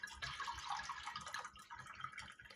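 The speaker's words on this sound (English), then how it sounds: "if I pour myself a wine." Wine poured into a glass during cold tapas preparation, a steady close liquid trickle and splash lasting a couple of seconds with no talk.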